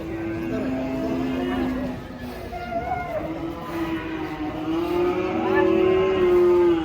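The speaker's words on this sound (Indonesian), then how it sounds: "ini dia sapi unik di pasar" Giant cattle with big horns low repeatedly at a livestock market, long drawn-out moos rising and falling nearby, over a busy background of voices and crowd noise.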